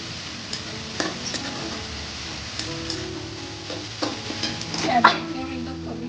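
Dried fish curry being stirred in a pot on high flame, a low frying sizzle under irregular scrapes and clinks of the spoon against the pan, close and moderately loud.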